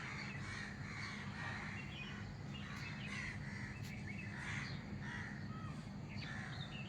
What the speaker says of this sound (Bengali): কাক এগুলি ডাকাডাকি করছে